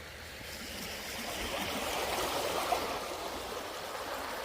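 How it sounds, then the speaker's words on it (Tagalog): A small creek flowing along a bank, a soft, steady rush and trickle of water heard from nearby, faint and continuous without talking. "Yung dalo yung tubig, oh."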